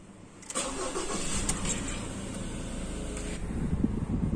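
A Ford Ranger engine cranks and catches, then settles into a steady, fairly loud idle close by, with no one talking.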